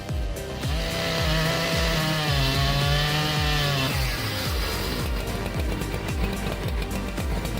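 A high-horsepower professional chainsaw, such as a Stihl MS-881, cutting through massive timber, heard close and loud as a steady roaring engine whine with pitch dips as the chain bites into the wood, continuous throughout.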